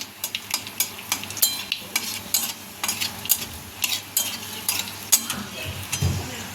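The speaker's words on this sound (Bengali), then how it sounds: "এবার কালো জিরে ফোড়ন দিয়ে নিলাম, একটা শুকনো লঙ্কা" Nigella seeds and a dried red chilli crackle and sizzle in hot oil in a pan, with rhythmic stirring scrapes and clicks repeating steadily close by, no voices.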